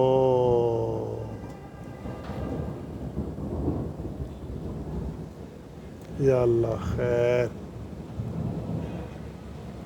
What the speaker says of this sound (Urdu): بادل گرجتے ہی جا رہے ہیں